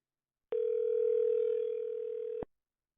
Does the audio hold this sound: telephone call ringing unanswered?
yes